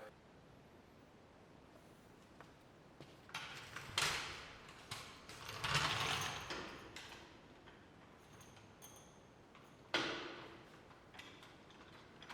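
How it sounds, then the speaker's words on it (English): Wheel being pulled off a broken, cracked trailer, heard as faint scattered mechanical clicks and ratcheting with a few louder clanking bursts against quiet background, no talking. "what I'm gonna do instead is I'm gonna pull that wheel off"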